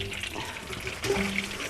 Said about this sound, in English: Okay, now I'm going to take our pasta. I'm going to drain it.